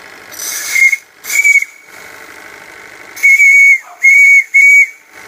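Steam whistle on a Max 11 steam plant at 40 psi gives five sharp shrill blasts, loud and close, with a soft steam hiss between them.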